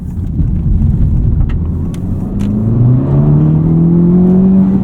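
An FL5 Honda Civic Type R on a COBB Accessport 93 tune pulls hard, engine droning loud and near as its pitch climbs steadily under acceleration, with brief tire noise during a moment of wheel spin.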